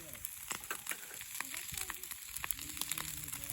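Leftover rice sizzles and fries in a pan over a small twig fire at a campsite, a steady close crackle with occasional stirring scrapes.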